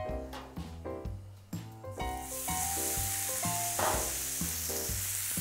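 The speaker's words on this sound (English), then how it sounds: "So I'm gonna sear that for about a minute." Tomahawk steak searing in garlic herb butter, a bright steady sizzle rising from about two seconds and running on under background music.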